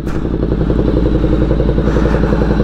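A Ducati Diavel 1260 motorcycle engine idles loudly nearby with a steady, rapid rumbling putter that holds throughout.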